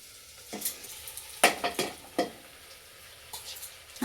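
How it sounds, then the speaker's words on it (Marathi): Rice and vegetables are stirred and tossed in a hot pan for masala rice, giving a soft sizzle under scattered scraping and clinking strokes of a spoon against metal, close by and fairly quiet. "ज्या भाज्या परतायला टाकलेल्या त्या भाज्यामध्ये आपल्याला हा तांदूळ टाकून द्यायचा आणि ह्या तांदळाला सुद्धा आपल्याला छान असं परतून घ्यायचं"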